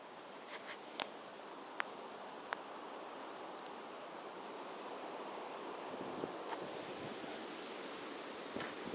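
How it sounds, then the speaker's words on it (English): Steady roar of strong wind blowing outdoors, a constant broadband rush with a few faint scattered taps and clicks, and no voices. "Listen to that wind."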